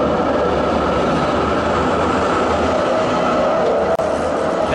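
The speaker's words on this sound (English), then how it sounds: "here is a tram" A tram in Oslo rumbles steadily past close by, a continuous loud rolling noise of wheels on rails with a brief sharp click near the end.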